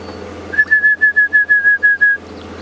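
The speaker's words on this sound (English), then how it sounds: "which is an orange-breasted bush shrike" An orange-breasted bush-shrike calls at Djuma Game Reserve, a clear, steady whistled note repeated in about eight even pulses, loud and close, with a faint hum underneath.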